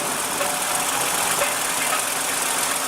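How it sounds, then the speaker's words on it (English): Toyota Sienna 2015 minivan with a 3.5 L V6 engine running, a smooth, steady engine hum mixed with broad road and wind noise, loud and constant across the whole stretch. "This is a very smooth and powerful V6 and a very responsive one too."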